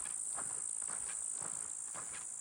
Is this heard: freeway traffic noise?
no